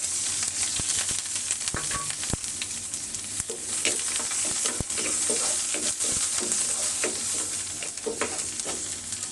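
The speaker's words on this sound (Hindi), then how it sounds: "ऑयल गर्म हो गया, इसके अंदर मैं ये अनियन ऐड कर दूँगी" Onions dropped into hot oil for Maggi noodles, sizzling steadily and close with frequent crackles and utensil ticks, no talking.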